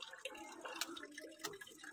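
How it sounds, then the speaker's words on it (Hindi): Water drips and trickles faintly as carrots are rinsed for carrot halwa, a soft, uneven splashing with a few brighter drops standing out over a quiet room. "तो यह हम गाजर धो रहे हैं।"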